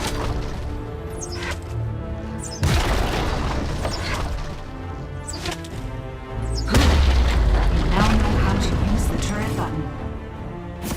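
An enemy turret crumbles in League of Legends: Wild Rift, heavy booming blasts and crashing impacts layered over game music, with a narrator's voice talking through it.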